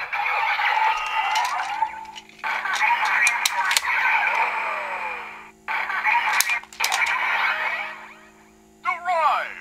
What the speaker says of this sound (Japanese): それではドライブドライバー、ブレイクガンナー、そしてマッハドライバーで音声確認です